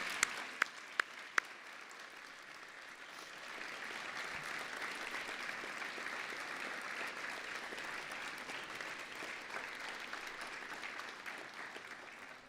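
Applause from a large audience at a university winter graduation ceremony, starting with a few scattered claps before swelling into sustained, even clapping that fills the hall, heard from a distance at moderate volume.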